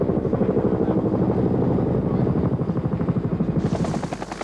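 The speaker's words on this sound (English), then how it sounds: "The helicopters were these, 4 Iroquois supplied by the Australian government." An Iroquois military helicopter in flight, its rapid rotor thudding loud and steady throughout, then shifting in tone near the end as the engine whine rises.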